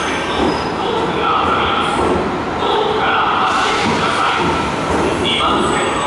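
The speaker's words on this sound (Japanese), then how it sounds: "あの近鉄電車が参りました。" A Kintetsu train rumbles and clatters steadily nearby, wheels screeching faintly over a continuous roar as it pulls into the station.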